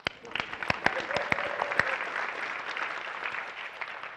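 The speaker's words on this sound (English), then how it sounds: "First of all, round of applause." An audience at a talk on quitting smoking bursts into applause, many overlapping claps forming a steady wash with a few sharper individual claps standing out.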